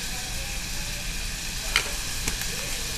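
Onions sizzle in a hot pot seasoned with Goya adobo while a spoon stirs through them, a steady bright frying hiss with a couple of brief clinks and scrapes close by.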